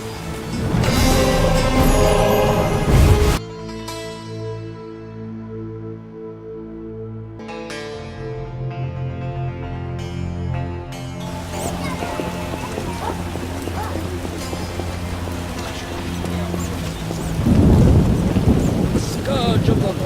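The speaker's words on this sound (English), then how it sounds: "Scourge of the Lords, this rain." Steady rain in the swamp of The Witcher video game, a constant hiss running under tonal background music, with heavier bursts of noise at the start and near the end.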